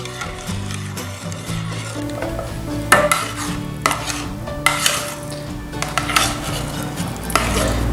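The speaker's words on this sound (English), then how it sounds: "make sure you stir it really well" Potato flakes being stirred into mash in a pot, with rhythmic scraping and clinking spoon-against-pan strokes, fairly close and loud, no talking.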